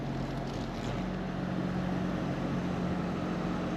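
An Audi S6 C8 family estate with a 349-horsepower engine drives on a road test, heard from inside as a steady low rumble of engine and road noise with broadband hiss, constant and moderately loud without speech.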